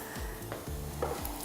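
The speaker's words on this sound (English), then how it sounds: "you will hear them sizzle when they pop into the pot" Close, steady sizzling and crackling of vegetables frying in a hot pot, with faint stirring scrapes.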